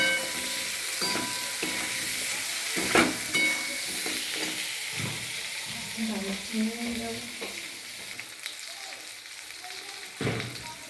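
Long-cut potato strips fry with onions in a pan, giving a continuous sizzling hiss with irregular scrapes and clatters of stirring, fairly close. Occasional faint voice sounds come through in the background.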